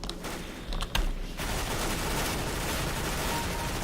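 Rapid UMP-45 submachine gun fire in Counter-Strike: Global Offensive starts with a few scattered shots. A dense, sustained automatic burst follows, loud and close.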